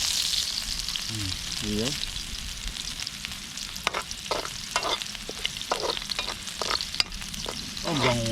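Ginger, garlic, onion and tomato sautéing in a hot pan, a constant sizzle with sharp scraping stirs that come in quick bursts, while a voice speaks briefly over the cooking.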